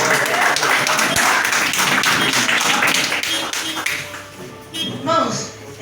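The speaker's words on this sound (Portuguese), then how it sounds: "Pode sentar aí, aplaudindo o nome do Senhor Jesus." Church congregation applauding, dense steady clapping filling the room, with voices mixed in and the clapping thinning toward the end.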